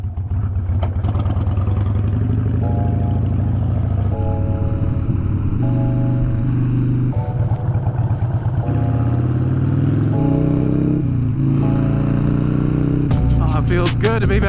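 Motorcycle riding on the road, a loud steady engine drone rising and falling through gear changes, with wind noise close to the rider.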